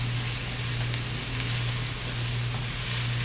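Grated carrots, scallions and sliced sweet peppers sauté in a pan with a steady, soft sizzle and hiss that runs unbroken and fairly close, with no talking over it.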